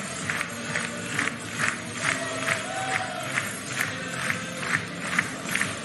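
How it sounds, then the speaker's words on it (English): A German crowd at a canoe sprint world championships in Duisburg cheers from a distance, with rhythmic bursts of shouting rising and falling at a regular beat. "That is definitely the German crowd you can hear now"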